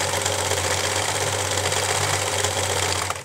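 A sewing machine runs steadily, backstitching back and forth on satin lingerie, with a loud continuous mechanical whir and rapid needle chatter that stops abruptly at the end.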